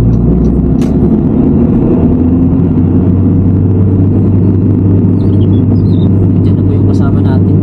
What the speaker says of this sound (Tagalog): Ayan po yung sasakyan niya sa baba.